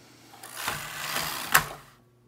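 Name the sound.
knitting machine carriage running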